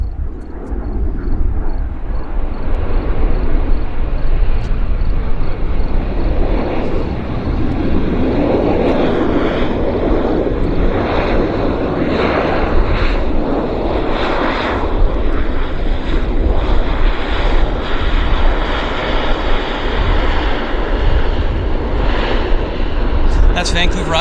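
Bombardier Q400 turboprop landing on a Vancouver airport runway, heard as a loud, continuous engine and propeller roar that swells and fades gradually, with voices talking over it.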